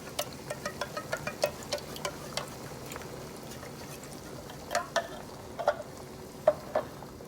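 A spoon stirring thickening chicken gumbo in a pot, with a soft bubbling simmer underneath and a series of light scrapes and clinks, quick at first, then spaced out with a few sharper knocks.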